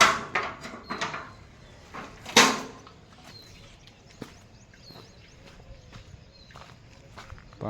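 Footsteps walk out through a main gate in a quiet outdoor spot, a few sharp scuffs and thuds early on, one loud metallic clank, then sparse light steps and taps trailing off.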